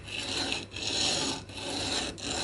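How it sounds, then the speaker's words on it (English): Sanding a 3D printed plastic grub screw foot for a hollow body guitar's adjustable nut base, a steady close rasping scrub in continuous strokes with brief pauses between passes. "I'm going to sand those down so that I start out with flat feet"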